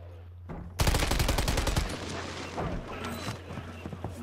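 Rapid bursts of SVA 545 automatic gunfire in the video game Warzone 3, a loud, close stream of shots lasting about a second, followed by scattered quieter shots and game effects.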